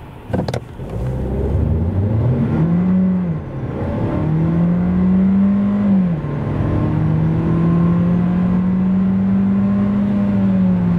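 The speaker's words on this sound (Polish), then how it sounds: "oznacza takie przyspieszenie od 0 do setki" 2022 Seat Ibiza FR with a 1.5 TSI 150 hp petrol engine accelerating hard from standstill: a loud, close engine roar climbing through the gears, with brief drops at each shift, lasting about ten seconds with no talk.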